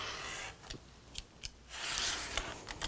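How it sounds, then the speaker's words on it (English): A rotary or fabric cutter slices quilting fabric diagonally along a ruler from corner to corner. Steady scraping passes are broken by a few sharp clicks, close and moderately loud, with no talking. "you're going to cut it right on the line from corner to corner"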